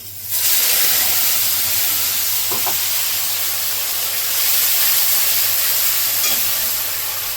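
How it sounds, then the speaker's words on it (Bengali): Bay leaf, radhuni seeds and ground spice paste hitting hot vegetable-frying oil for Bengali shukto, a loud sustained sizzle and hiss with brief stirring clinks, no talking. "এবার সবজি ভাজার তেলটাতে আমি ফোড়ন দিয়ে নেব।"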